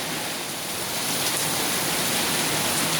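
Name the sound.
heavy rain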